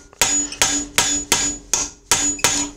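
A hammer striking a chisel in sharp, ringing metallic blows, seven evenly spaced hits in under three seconds, close and loud with short decays between strikes.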